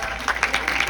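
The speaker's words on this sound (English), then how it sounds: "Another round of applause." Theater audience applauding after a film screening and Q&A, a brief burst of dense, steady clapping from a crowd.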